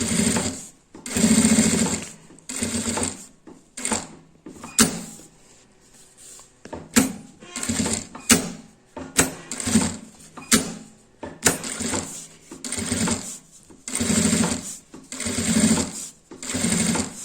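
A sewing machine set to stitch length 5 stitches fabric for a zippered pouch with a clear vinyl window, running in loud close bursts of whirring broken by short pauses and clicks.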